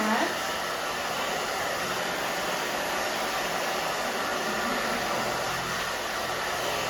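A hair dryer runs steadily and close by throughout, a constant whooshing drone blowing on short hair during an A-line haircut.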